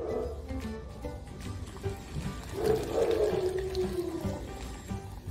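About a liter of water is poured into a container while mixing fertilizer for a potted strawberry plant, a continuous gurgling splash that swells midway, close by, with no speech.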